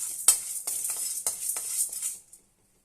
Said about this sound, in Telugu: ఇవి సిమ్లో పెట్టి దోరగా వేయించుకోవాలి